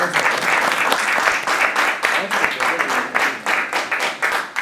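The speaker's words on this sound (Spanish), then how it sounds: "yo pido un aplauso por Modesto." Audience applause at a science-industry summit, the winter 2019 ECI event, for an honoree named Modesto; dense, steady clapping from a room full of people, loud and sustained throughout with slight swells, no talk over it.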